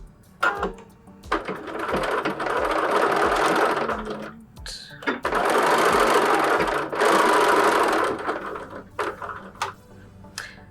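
A sewing machine stitches a quilted fabric book cover in loud, rapid whirring bursts of a few seconds each, with short pauses and small mechanical clicks between runs.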